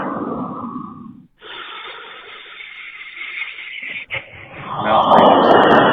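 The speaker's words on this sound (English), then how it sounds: "Someone's just breathing into it" Over a thin, phone-quality voicemail line, someone breathes heavily into the receiver, with a few drawn-out breaths, a brief pause, and then louder, rushing exhalations near the end.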